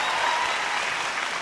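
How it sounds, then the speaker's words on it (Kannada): An audience on the set of a Kannada comedy stage show claps in steady, dense applause that is loud and continuous from start to end. "ಹೊಡಿರಿ ಚಪ್ಪಾಳೆ."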